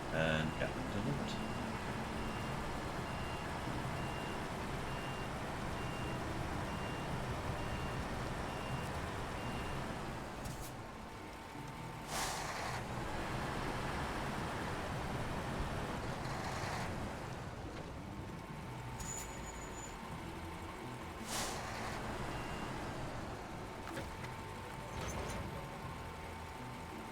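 A heavy log-hauling truck in SnowRunner on hard mode idles and rumbles steadily, with faint repeated reversing beeps early on and a few brief louder bursts over the low engine drone.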